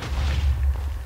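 A cannon in a Star Wars adventure map of the game Minecraft fires with a deep, rumbling boom that fills the short clip without any talk.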